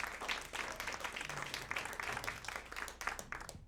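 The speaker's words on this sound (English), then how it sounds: "I just wanted to give them each a thanks and a little hand of applause." Audience applause at a country music variety show, for the production crew, a dense steady patter of many hands clapping at moderate distance, continuing without pause.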